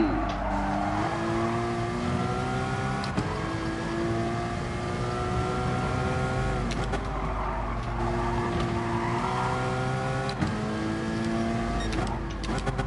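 Racing-game car engine droning and revving steadily throughout, pitch rising and falling through gear changes, with brief skids and tire squeals, loud and close with no talk over it.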